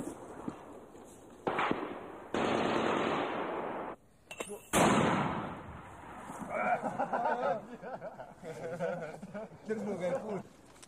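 Gunfire from sniping rifles, small arms and mortars in the forests around Novi Travnik, Bosnia, 1992: sharp bursts and sustained loud crackling stretches, with someone talking through the second half.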